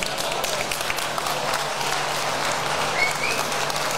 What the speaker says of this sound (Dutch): Geef ze nog een heel groot applaus.